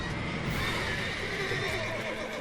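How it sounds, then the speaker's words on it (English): Horses neighing and whinnying loudly in The Witcher 3 video game, agitated cries overlapping with a hint of hoof clip-clop, close and continuous for a few seconds. "as soon as you drop down in here, the horses start just going crazy"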